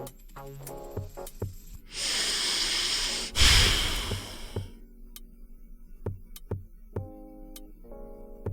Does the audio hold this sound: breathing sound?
yes